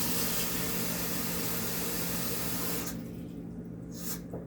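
Tap water runs steadily into a cup in a home kitchen, a loud, continuous hiss that suddenly drops away as the flow is cut off, leaving a couple of brief splashes.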